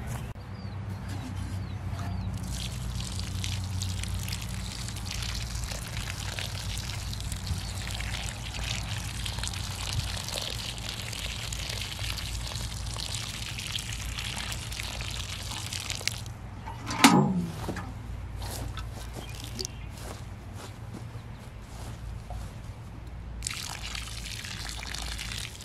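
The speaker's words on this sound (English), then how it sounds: "now I'm gonna go get some water to get that nice and wet" Water is poured onto a newly planted fruit tree in a food forest on a former cow pasture, a steady, continuous trickle and splash with one brief sharper knock partway through.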